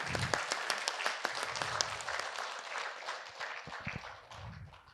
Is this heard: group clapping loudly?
yes